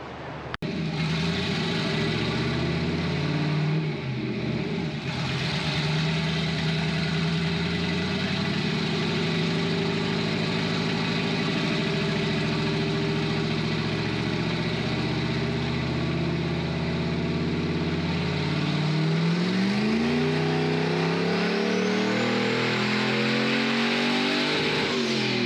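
A turbocharged Ford Foxbody with a stock-block 302 V8 runs on a dyno, a loud, close, continuous engine drone that idles roughly and then climbs as the revs rise toward the end.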